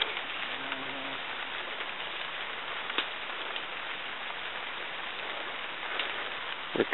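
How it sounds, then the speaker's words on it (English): Heavy rain falls steadily in a jungle, a constant dense hiss of drops on foliage with no talk, holding at an even, fairly soft level throughout. "Rain's coming down harder now."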